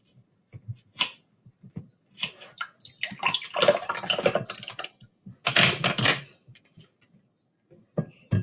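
Milk poured into a measuring cup while an omelet casserole is made, a pouring and trickling burst of liquid, loudest in the middle and briefly again later, with faint clicks and handling sounds between.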